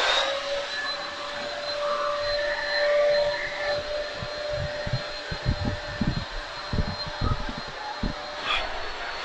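A Vo.temm 4-in-1 vacuum cleaner runs with a steady whining drone and a constant high tone, its motor noise continuous throughout with uneven low thumps and rustles toward the end.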